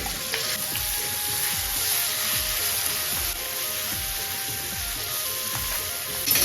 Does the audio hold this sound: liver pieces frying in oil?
yes